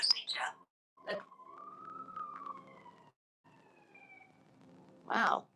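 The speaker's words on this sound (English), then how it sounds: "Wow, that sounds like a police car." A distant police car siren wails in a long rising and falling tone, faint and steady, with short bursts of noise before and after.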